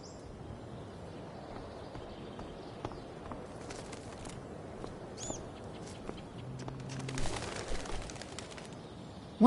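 A bird, probably a pigeon or dove, in the video game Life is Strange Before the Storm, giving soft low coos amid faint footsteps and scattered game ambience, moderately distant and quiet.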